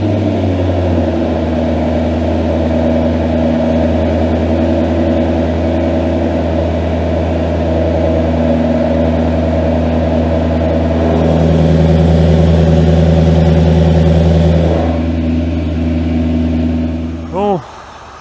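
A Range Rover V8 biturbo diesel with a straight-through, silencer-free exhaust idles with a steady deep rumble and a brief rise in revs, loud and close, while people talk over it before a short squealing sweep near the end.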